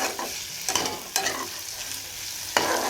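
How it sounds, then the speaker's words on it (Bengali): Potatoes frying with spices, onion, ginger, garlic and tomato paste, a constant sizzle broken by four sharp bursts as the pan is stirred, close by with no speech. "আলুগুলো ভেজে নিই সব রকম মশলা পেঁয়াজ আদা রসুন টমেটো বাটা সব কিছু দিয়ে এখন কষানো হচ্ছে"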